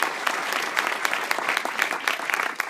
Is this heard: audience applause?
yes